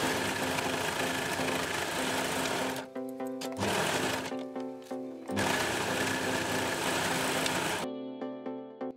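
A sewing machine stitches knit fabric with a ballpoint needle, running in fast rhythmic bursts with brief pauses between them, loud and close with no talking.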